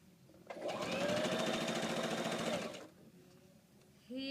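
A sewing machine runs a steady fast stitch for about two seconds while sewing a half-inch side seam, close and loud, then stops, with a brief voice starting at the end.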